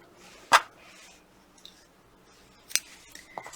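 Scissors snipping knitting yarn after a backstitched knot on reinforced steek stitches, one sharp close cut followed by a couple of softer clicks, alone in a quiet room.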